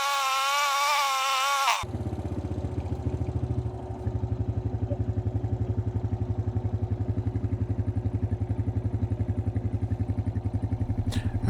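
A backhoe's engine idles steadily after starting, warming up to loosen sludge and sediment before an oil drain; a close, loud, even chugging pulse runs throughout, with no talk.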